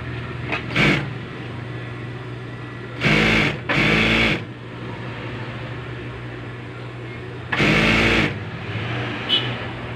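A sewing machine stitches a children's jersey in short bursts, its whirring motor rising three or four times for about half a second each over a steady background hum.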